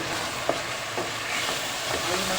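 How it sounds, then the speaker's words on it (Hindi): Mutton pieces fry with spices in a pot for mutton kunna, a continuous close sizzle broken by a few soft scraping stirs. "तो गोश्त को भून लूँगी।"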